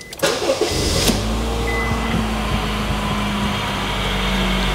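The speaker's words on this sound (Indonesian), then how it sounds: "Saya akan nyalakan mesinnya." A 2015 Honda Freed's engine cranks and catches after a brief click, then settles into a steady, close idle that hums on alone.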